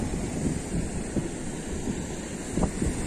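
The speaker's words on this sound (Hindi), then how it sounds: "बहुत ही ज्यादा शोर है पानी की वजह से" Rushing river water at a bridge gives a loud, steady, broadband roar, with some wind buffeting on the microphone throughout.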